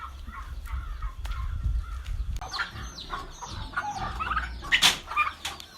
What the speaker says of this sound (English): Today is the day that the chickens go to be processed.